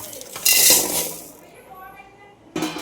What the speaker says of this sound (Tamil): வடச்சட்டி வச்சாச்சு இந்த எல்லாத்தையும் வந்து அப்படியே கொட்டிக்கலாம்